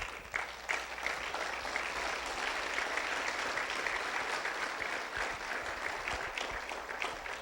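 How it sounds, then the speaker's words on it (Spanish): A church congregation claps for Jesus during a Spanish-language service, a steady, dense wash of many hands clapping that holds at an even level throughout without a break. "Dale palmas a Él."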